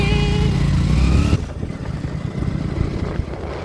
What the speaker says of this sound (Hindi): हम बाइक पे सवार हो चुके हैं जाने के लिए।